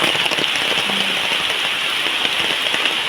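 Steady monsoon rain pours over an areca nut plantation, a dense, even hiss of drops hitting leaves and puddled ground, close and unbroken throughout.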